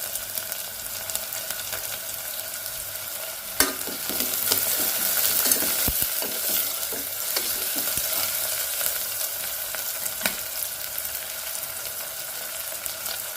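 Ginger pieces and green chilies hit hot oil in a pan with a steady sizzle, joined by scraping and clinking stirs and a few sharper taps of the utensil against the pan.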